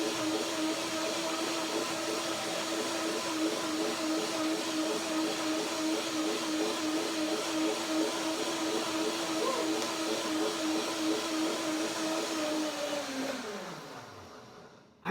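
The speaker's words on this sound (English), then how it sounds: "I dress it again, I blend it again," A blender whirring through a cashew orange cream dressing, a loud steady motor whine held for about thirteen seconds before winding down and stopping.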